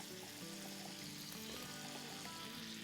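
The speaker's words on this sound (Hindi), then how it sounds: "चले अब हम आलूओं के साथ इसको भूनेंगे।" Potatoes and carrots frying in a pot for a vegetable korma, a steady close sizzle with a constant crackling hiss and no speech.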